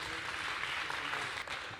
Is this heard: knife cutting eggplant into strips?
no